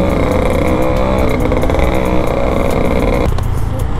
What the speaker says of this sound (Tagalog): Grabe na maingay nitong motor na to.